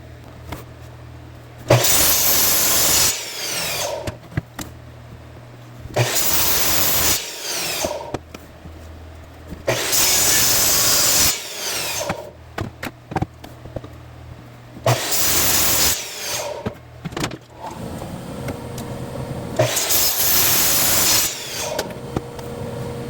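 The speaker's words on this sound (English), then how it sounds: "I can start there, line this up, and literally turn this around clockwise, counterclockwise, whichever way I want to do it, to finish cutting these sections off here" Power tool cutting sections from repurposed free wood for a vintage rototiller wheel fix, running in about five loud bursts of a few seconds each with short pauses and clatter between them, no talking.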